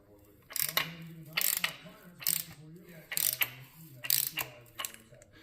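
An oiled engine rotating assembly, piston rings removed and main bearings lightly oiled, is turned over by hand in about six rhythmic bursts of clicking, ratcheting mechanical noise over a low steady hum, close and moderately loud.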